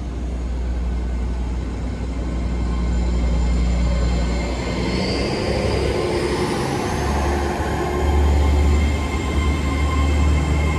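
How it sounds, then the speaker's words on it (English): A train rumbles steadily close by at Malvern Link railway station, low and continuous, with a rising metallic squeal of wheels partway through and no talking. "there goes the train"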